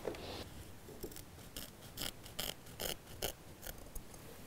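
Scissors snipping through fabric, a series of roughly a dozen crisp cuts in an uneven rhythm, heard close and without talking.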